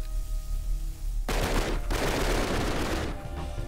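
Video game gunfire sounds as a loud, sustained volley of rapid shots that swells suddenly after a low background hum, dips briefly, then keeps rattling on, close and dense, with no talking over it.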